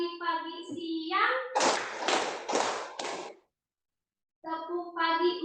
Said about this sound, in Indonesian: Nah, tepuk tangan.